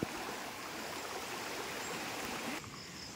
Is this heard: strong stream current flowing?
yes